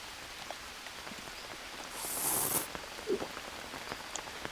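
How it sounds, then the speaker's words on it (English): Rain falling in the jungle survival game Green Hell, a soft steady patter at moderate distance with a brief louder hiss of heavier rain partway through, no talking. "But yay, it's raining finally."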